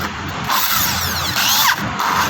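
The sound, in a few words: electric drill spinning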